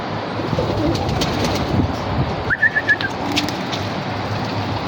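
Pigeons in a home loft, a short series of soft coos standing out clearly midway over a steady background murmur and faint outdoor noise.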